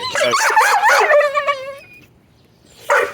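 A dog in a backyard lets out a run of high whimpering yips and whines close by, fading into quiet before one more short yelp at the end.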